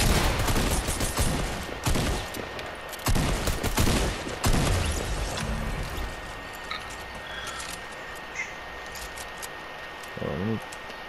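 Rapid bursts of automatic gunfire in a Fortnite match, loud sharp volleys in the first few seconds that thin out into quieter shots and game ambience, with a brief low thump near the end.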